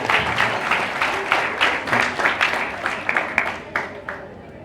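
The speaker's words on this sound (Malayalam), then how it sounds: "അവൻ്റെ സത്യസന്ധതയ്ക്ക് ഒരു കൈയടി കൊടുക്കും" An audience at a talk on addiction gives a round of applause, with many hands clapping in rhythmic bursts that gradually fade out.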